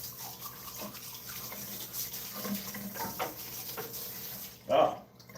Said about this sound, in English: I'll rinse it off a little bit.